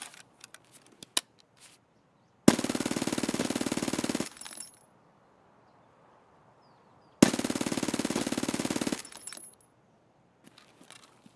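Two long bursts of rapid automatic Vector fire in Escape From Tarkov, each about two seconds of dense, loud repeated shots with quiet gaps between and faint clicks around them.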